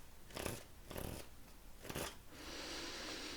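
Tarot cards are drawn and laid out in three quick, soft papery swishes and slides, followed by a brief steady rustle. They are close and quiet, with no talk.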